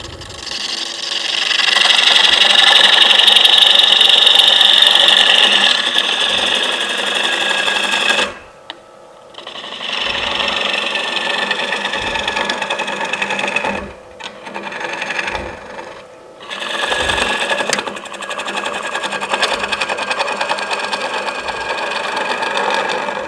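Wood lathe gouge with a 40-degree grind cutting inside a turned bowl, a loud steady rasping drone that breaks off into short gaps and restarts unevenly as the tool chatters near the bottom.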